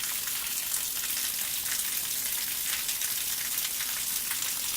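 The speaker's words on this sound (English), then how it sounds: "that's the sound of water running off of my roof." Rainwater pours off a house roof during a monsoon storm, a dense, loud, continuous hiss and splatter that stays steady and close without pauses or voices.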